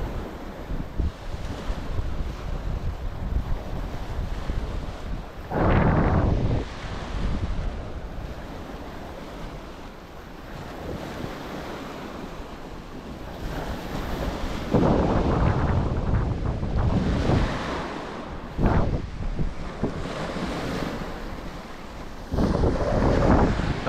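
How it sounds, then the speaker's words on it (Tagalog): Strong wind buffets the microphone in roaring gusts during ultralight shore casting by the sea, with the broad rush of surf and open water underneath, rising and falling over the stretch. "Medyo mahangin eh."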